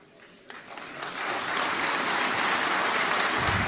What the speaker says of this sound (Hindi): मेरे बोलने पर आप तालियां बजा रहे हैं